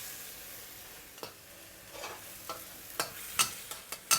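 Pork stir-fry in black bean sauce being stirred in a wok over high heat, a steady sizzle with sharp scrapes and clacks of the spatula that grow louder and more frequent toward the end.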